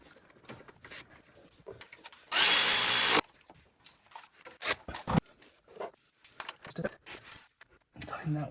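A bolt on the oil filter housing bracket of a 2005 BMW 325xi is driven by a power tool in one loud, roughly one-second burst, set amid someone talking and scattered clinks of handled parts.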